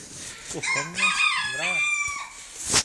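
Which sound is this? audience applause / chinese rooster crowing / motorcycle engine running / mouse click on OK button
chinese rooster crowing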